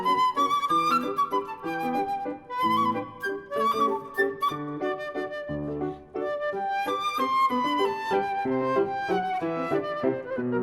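A flute with piano plays the Carmen Fantasy passage where Carmen sings to Don Jose: a busy, full-toned melodic line over rich piano chords, sustained throughout at moderate loudness with a couple of brief dips.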